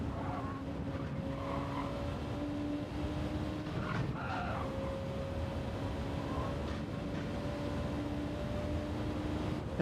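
A Gr.2 race car in the video game Gran Turismo 7 drives with a steady engine whine and occasional tire squeal and skid bursts, at moderate, even loudness.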